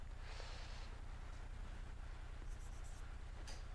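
Pen strokes scratch quietly across paper in short bursts as someone writes out Laplace transform equations by hand, faint over a steady low background hum, with no talking.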